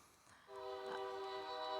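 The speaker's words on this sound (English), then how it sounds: "hear the train?" A train horn sounds in the SimCity BuildIt mobile game, a sustained faint tonal blast that starts partway through and holds steady to the end, with no talking.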